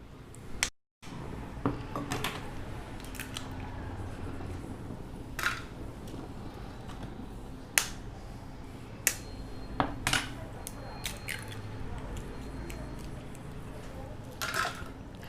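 Three eggs are cracked and poured into a pan of cooked green peas, with sharp clicks and clinks of shell and utensil against the pan scattered over a kitchen background as someone talks.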